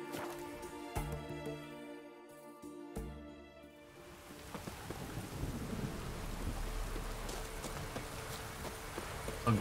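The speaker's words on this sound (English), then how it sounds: "The storm, damn it." Thunder rumbles and rain pours steadily in a stormy scene from The Witcher 3: Hearts of Stone, with a loud crack near the start and a continuous wash of rainfall that swells into a dense, close downpour.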